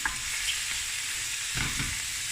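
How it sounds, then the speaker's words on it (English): Lamb knuckle pieces and onions braising and frying in a pot for a curry, a steady close sizzle with a couple of brief stirring scrapes, no voices. "I'm going to braise the meat and the onions until the meat is nicely got a nice color to it."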